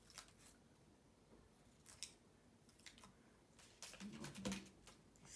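Scissors snip paper into small triangles for a dragon craft, a quiet run of crisp, close cuts at an uneven pace, growing a little busier toward the end.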